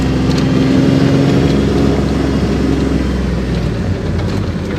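A vehicle rolls along a rural trail on farmland in southern Missouri. Its engine gives a steady, close, loud rumble with no break, and nobody talks over it.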